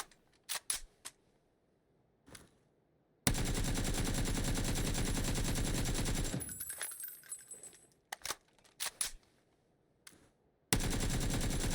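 Rapid automatic gunfire in the video game PUBG, fired in a long sustained burst and a shorter one, with scattered single shots and clicks in between, loud and close.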